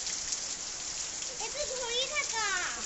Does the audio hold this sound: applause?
no